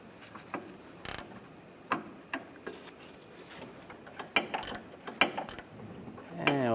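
A ratchet with a 5mm hex socket clicks in short bursts and spaced ticks while loosening a front sway bar link nut on a 2015-2019 Lincoln MKC, close and fairly quiet, with a brief metallic rattle near the end.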